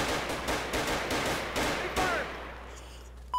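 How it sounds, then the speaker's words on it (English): A burst of gunfire in a security incident: about seven loud, closely spaced cracks in quick succession, then fading noise and a brief sharp sound at the very end. "Shots fired, shots fired"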